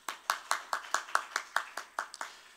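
Steady rhythmic clapping from a small group at a church youth-department online Sunday service, about a dozen even claps in a row, moderately faint and without talk.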